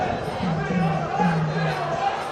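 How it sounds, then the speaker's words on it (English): A massive crowd at a street demonstration in Newcastle on a Saturday morning, a steady wash of murmuring and distant chatter with a voice speaking over it throughout. "I'll let you get a sense of the crowd by just letting this film run"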